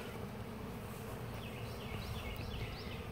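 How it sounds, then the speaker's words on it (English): Many honey bees fly around a newly moved hive outdoors, a continuous buzzing drone at a steady level with a few individual bees zipping past nearby. "There are a lot of bees flying around."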